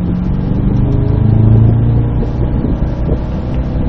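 A Cadillac CT5-V Blackwing with a six-speed manual accelerates hard on the Spring Mountain race track in Pahrump, its engine holding a loud, steady, close rumbling roar that climbs slightly throughout, with no talking.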